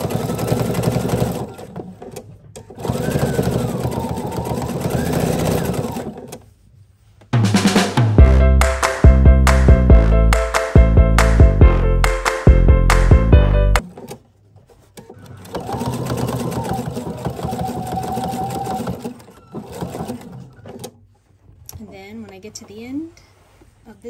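A sewing machine quilting a beginner peekaboo quilt, stitching through the middle of a flower and along its petals in several loud bursts, with pauses for pivoting, while someone talks between and around the runs.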